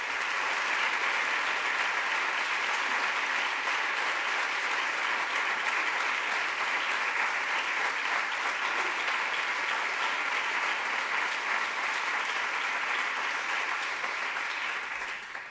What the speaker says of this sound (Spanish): Pedro Fernández, Un aplauso para él porque ya no está entre nosotros.